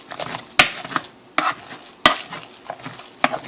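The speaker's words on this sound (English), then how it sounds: "Okay, mash these up really good" Food mashed and stirred in a hot pan while cooking sticky lemon chicken: a utensil scrapes and knocks against the pan in an irregular rhythm of sharp clacks over a soft sizzle, close and fairly loud, with no talking.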